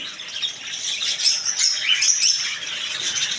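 Lovebirds and budgerigars at a bird shop in Kashinathpur market, Pabna, keep up a dense, busy chorus of high chirps and tweets nearby, with no talking over it.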